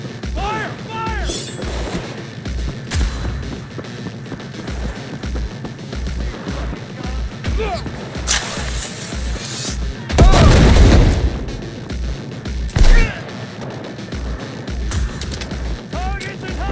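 Gunfire and explosions in the video game Cyberpunk 2077, with rapid bursts of shots, sharp cracks and a heavy booming blast partway through, loud and close, while voices shout during the fighting.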